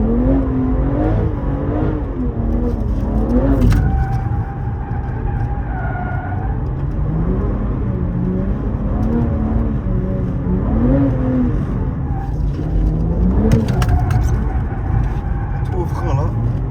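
A BMW M3 G80 drifting, its engine rising and falling through repeated revs, loud and close, with people talking over the engine note throughout.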